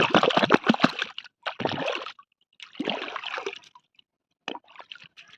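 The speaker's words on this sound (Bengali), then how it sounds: "তো মাটিগুলোকে এইভাবে ধুয়ে দেবো।" Clay soil is washed with water by hand, making irregular bursts of close sloshing and splashing, separated by short pauses.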